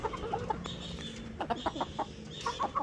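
Barred Rock hens cluck in short repeated bursts, close by, with a few sharper calls mixed in over faint farmyard background.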